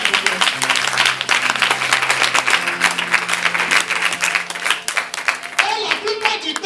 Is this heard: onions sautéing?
no